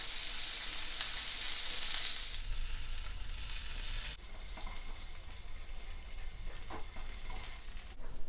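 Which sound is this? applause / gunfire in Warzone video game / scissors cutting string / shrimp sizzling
shrimp sizzling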